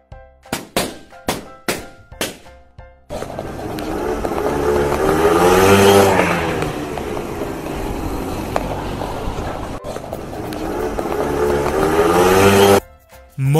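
Several sharp knocks open, then a motorcycle engine roars in loudly, revving up and down steadily for about ten seconds before cutting off.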